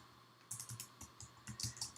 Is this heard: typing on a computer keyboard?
yes